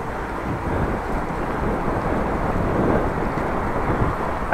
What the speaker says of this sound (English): Oh, wind in the face.